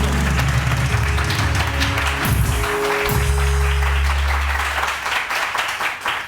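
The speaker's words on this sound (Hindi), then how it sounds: "उरूज मोइज के लिए बहुत सारी तालियां" Studio audience applauding on a Pakistani morning talk show, a steady wash of clapping held at an even level for several seconds before it thins and tapers off near the end.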